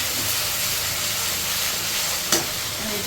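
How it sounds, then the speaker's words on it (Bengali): Jackfruit boiling in a pot gives off a steady, broad steam hiss that stays even throughout, with one brief clink near the end and no voices. "এই যে কাঁঠাল এখনো সিদ্ধ হচ্ছে।"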